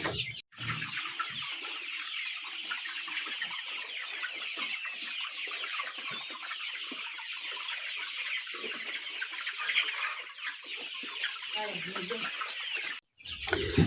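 Flock of layer chickens, nearly eight weeks old, clucking and chattering steadily throughout, a dense continuous murmur of many birds nearby with no talk over it.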